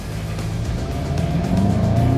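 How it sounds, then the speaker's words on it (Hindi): A 2024 Volkswagen Golf GTI with a 2-litre TSI engine runs at idle and then rises in a steady, loud, close rumble that builds toward the end, with no voices. "starting a golf GTI"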